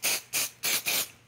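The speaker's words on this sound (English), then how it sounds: "I'm gonna spray it again lightly." Spray adhesive hisses onto quilting fabric and cotton batting in four short, close bursts, each lasting a fraction of a second, with brief pauses between them and no talking.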